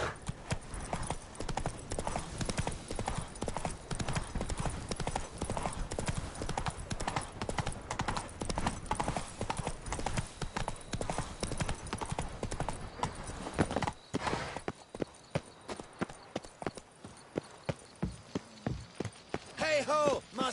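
Roach the horse from The Witcher 3 clip-clops steadily in a game scene, hooves beating fast and continuous before slowing to sparser, distinct steps near the end.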